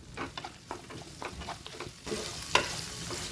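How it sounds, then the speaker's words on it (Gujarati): Onion, bottle gourd, drumstick pieces and tomato are stirred in a pan for sambar, giving a series of scraping strokes over a soft sizzle, with one sharper clink near the end. "બધું સરસ મિક્સ કરી લઈશું।"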